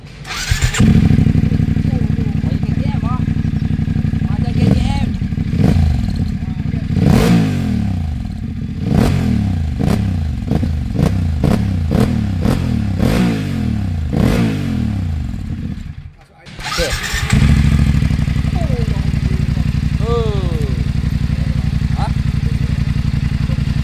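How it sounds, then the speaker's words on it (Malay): A Voge DS900X motorcycle with an aftermarket exhaust idles loudly up close, then revs repeatedly in rapid bursts, drops out briefly, and settles back into a rumbling idle. "jom kita belanja bunyi exhaust ni"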